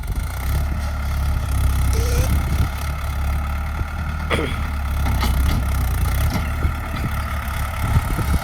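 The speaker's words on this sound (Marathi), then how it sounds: "ट्रॅक्टर अडकलं." A tractor hauling two trolleys, stuck, runs with a loud, steady low engine rumble close by, holding a constant drone with faint clunks and scattered background sounds throughout.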